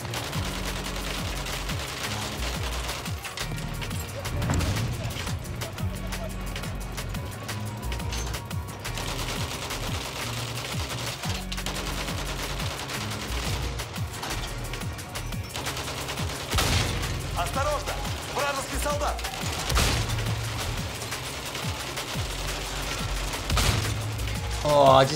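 Gunfire in Battlefield 1 as the player shoots at a building: dense bursts of machine-gun fire and scattered shots over a constant rumble of battle, with distant explosions and mechanical clatter mixed into the din.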